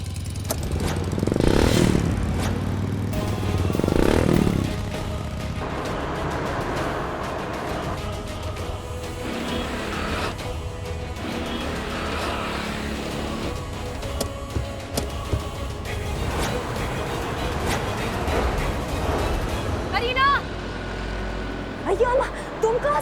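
A motorcycle runs and rumbles steadily through a scripted street scene, its engine hum continuing beneath people talking, with a few louder swells and some sharper sounds near the end.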